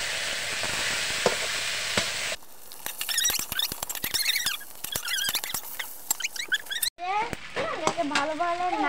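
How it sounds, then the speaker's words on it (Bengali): Chopped potatoes stir-fried in a pan: a bright sizzle, then irregular scraping and tapping of a spatula, with brief cuts between sections. "ভালো ভালো নাড়িয়ে রান্না করা হচ্ছে"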